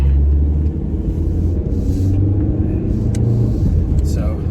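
A vehicle on a road rumbles past close by, a steady low drone swelling and fading, with a person talking over it.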